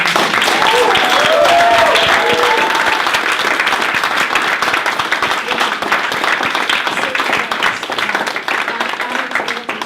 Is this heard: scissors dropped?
no